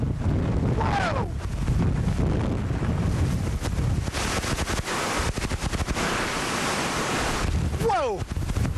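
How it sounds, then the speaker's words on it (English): Strong hurricane wind gusts roar continuously across the microphone with heavy rain and surf noise, swelling and buffeting loudly throughout, with brief shouted voices near the start and end. "Here comes another big gust."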